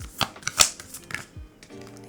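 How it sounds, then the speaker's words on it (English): Oracle cards riffled and shuffled by hand in a tarot-style reading, several quick papery flutters and slaps close up, a short pause, then a final soft burst, with no talking. "And I'm just shuffling until I hear it stop"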